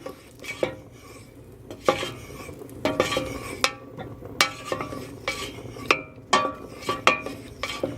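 Butter melting in a pot for rice crispy bars, stirred with a metal utensil, giving repeated clinks and scrapes against the pot in an uneven rhythm over a faint sizzle, with no voices.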